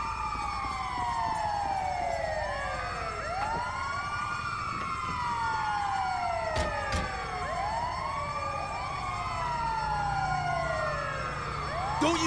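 Ambulance siren in the video game GTA 5, wailing continuously with repeated rising and falling sweeps, loud and close over a steady engine rumble, no talk.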